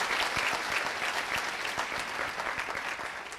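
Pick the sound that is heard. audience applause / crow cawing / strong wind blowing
audience applause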